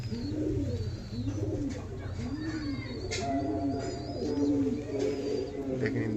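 Desi Poschime pigeons coo in repeated low, rolling phrases, close and fairly clear, with a few faint chirps above and a soft background hum.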